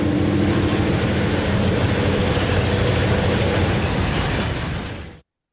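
An Erie Lackawanna commuter train, number 1408 bound for Hoboken, rumbles past close by with a loud, steady roar of wheels and cars that holds evenly before cutting off abruptly.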